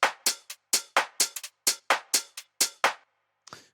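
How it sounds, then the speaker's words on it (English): Clap drum sample from a funky minimal deep house track, struck about a dozen times in a quick, slightly uneven rhythm, each hit sharp and close with a short decaying tail, alone with no other sound. "We have a clap."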